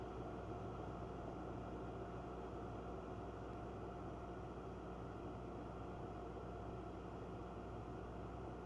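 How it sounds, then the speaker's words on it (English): Steady broadband air compressor hum feeding high-pressure air assist to a Thunder Laser Bolt laser cutter during a cut, constant and unbroken throughout with no talk. "you can hear that the air compressor kicked on because we do have it set for the cut to receive high air pressure"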